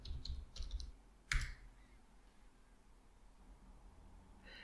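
Computer keyboard keys clicking as a command is typed, a short cluster of close taps followed by one louder keystroke, then quiet room hiss and a last soft tap.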